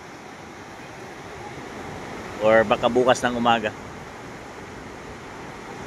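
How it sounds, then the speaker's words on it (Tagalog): Strong ocean waves roll onto a beach, a constant windy roar of surf close by, with a person speaking briefly in the middle over the noise. "Pero umaga pa naman, talagang malakas lang yung alon."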